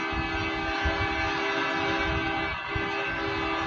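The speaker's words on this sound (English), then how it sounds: "This maintenance vehicle is coming down the track, setting off the signal." A rail maintenance vehicle rolls down the track past a signal, a steady loud hum with sustained horn-like tones held throughout, no voices over it.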